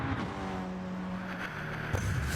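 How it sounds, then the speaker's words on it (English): A race car in Gran Turismo 7 sweeps past during a pit stop, its engine note faint and blurred under the steady drone of the player's own car. "I hear someone go past me"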